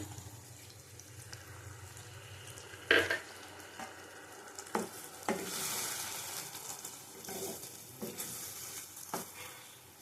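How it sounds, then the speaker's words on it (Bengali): Water used to rinse a bowl is poured into a hot pan holding poppy seed paste ground with dried chilli, for a pointed gourd dish: a sharp splash, then a bright, hissing sizzle that swells and slowly settles under light stirring. "একটু জল দেবো বাটি ধোয়া জল দিয়ে দিলাম"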